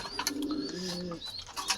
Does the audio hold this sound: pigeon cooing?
yes